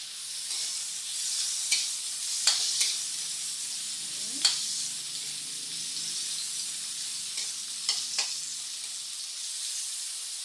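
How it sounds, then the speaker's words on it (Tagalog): Pork sizzling in a pan with tomato, garlic and onion, a steady close frying hiss broken by a few sharp spatters and stirring clinks. "igisa lang natin siya hanggang yung aroma ng kamatis, bawang, sibuyas, ma-absorb ng karne"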